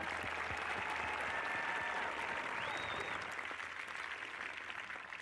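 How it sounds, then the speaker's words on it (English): Applause at a high school graduation ceremony, a large crowd clapping steadily and loudly, with a few high whistles rising over it, slowly easing toward the end. "Give yourselves a round of applause."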